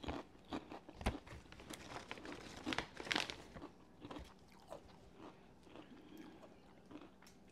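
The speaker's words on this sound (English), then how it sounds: "My three chips here. A little munch and crunch." Lay's cheddar jalapeno potato chips crunch close to the mic in a series of sharp bites followed by softer chewing and crinkling, fairly quiet overall with no talking.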